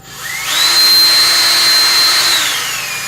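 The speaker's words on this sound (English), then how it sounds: "And then drill on the other side." A power drill spins up with a rising whine, holds a steady high-pitched drone, then winds down; loud and close, no talking.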